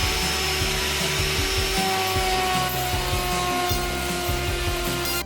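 A router table trims the edge of a wooden board for gluing while a vacuum dust extractor roars steadily throughout, with rough cutting and rubbing noises layered over the constant drone, no talking.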